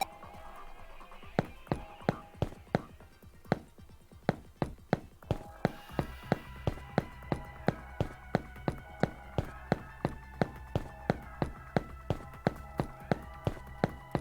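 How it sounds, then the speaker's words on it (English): Heavy, thudding footsteps in Digimon Story Cyber Sleuth, a steady even march of loud booming steps over game music, quickening slightly after the first few seconds. "Those are some heavy footstep sound effects"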